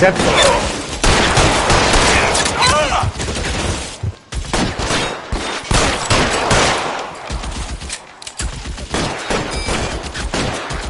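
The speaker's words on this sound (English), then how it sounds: "Lay down some cover fire." Rapid gunfire from a shootout in the video game L.A. Noire, dense bursts of shots in quick succession with brief pauses, while game characters shout over the fire.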